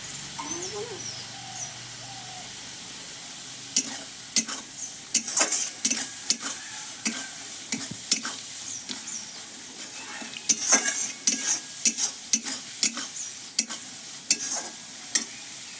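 A spice paste with slit green chilies fries in a pan for a river fish curry, a soft sizzle broken by repeated sharp scrapes and taps of a spoon stirring, close and clear, with faint bird calls behind.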